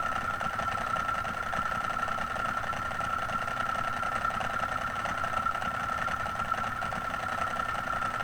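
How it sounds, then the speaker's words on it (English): A Ducati motorcycle engine idles steadily with a constant mid-pitched hum and fine mechanical rattle from a loud clutch throughout, fairly quiet and unbroken. "That right there is one loud clutch."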